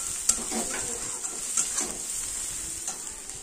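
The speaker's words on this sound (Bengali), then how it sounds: "এইগুলো দিয়ে আবার ভালো করে কষাতে হবে এই গুঁড়ো মশলাগুলো দিয়ে" Ground spices, including Kashmiri chili powder, sizzle and fry in oil in a pan while a utensil stirs and scrapes, producing a steady close sizzle with occasional light metallic knocks.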